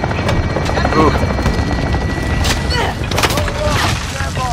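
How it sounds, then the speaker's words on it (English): An enemy chopper gunner helicopter in a video game thuds with a steady, loud rotor drone amid battle noise, while players talk and shout over it. "Enemy chopper gunner, on the front!"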